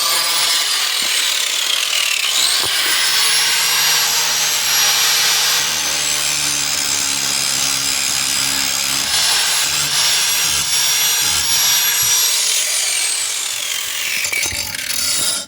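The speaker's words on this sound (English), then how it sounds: "I'm going to take the grinder flat across this to flatten it out" An angle grinder flattens the edge of a John Deere STX 46 mower blade, a loud continuous abrasive whine and grinding rasp held close for the whole stretch, its pitch shifting slightly as pressure changes.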